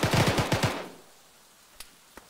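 Machine-gun fire in the military shooter ArmA: a rapid burst of about six close, heavy shots, followed by silence and two faint distant single reports.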